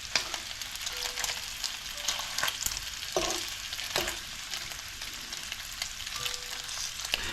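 Bacon strips sizzle and crackle steadily in a hot cast iron pan, a bright continuous fry broken by occasional scraping and stirring clicks, with no voices.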